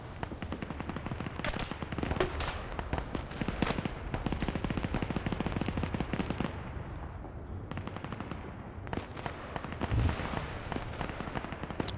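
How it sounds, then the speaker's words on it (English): Gunfire in a Falklands-themed video game PvP match: dense bursts of machine-gun and rifle fire cracking continuously, loud and close, with occasional heavier impacts and no talk. "He's taking heavy fire now. Rounds landing really close to him."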